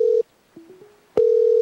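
A telephone line tone on a call, with steady, loud tonal bursts at the start and end and a fainter, wavering tone between them, heard alone without talk.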